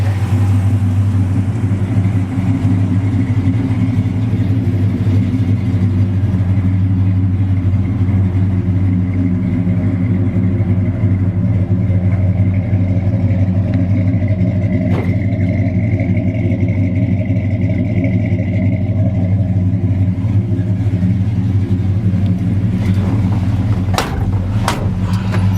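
Chevrolet Super Cheyenne C10 pickup with a 350 V8 and aluminum heads driving around the block, heard from the bench-seat cab: a steady low engine drone that swells in revs at times, with light clatter and clicks, no talking.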